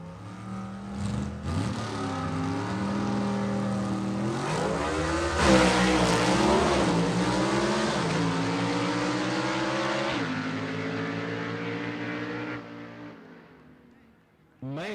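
C gas class gasser drag cars at Gulfport Dragway in a Southeast Gassers Association event: engines rev and snarl at the line, then surge into a loud launch roar that fades away down the strip.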